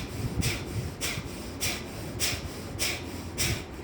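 Kapalbhati yoga breathing, forceful exhalations through the nose: six sharp rhythmic nasal puffs about every half second, close and moderately loud over a quiet background.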